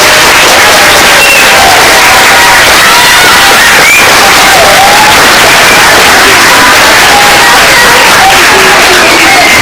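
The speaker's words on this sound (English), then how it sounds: "Guys, can we give everyone a big round of applause?" A school math bee audience breaks into loud, sustained applause and cheering that fills the room steadily throughout, with children's voices and shouts mixed into the clapping.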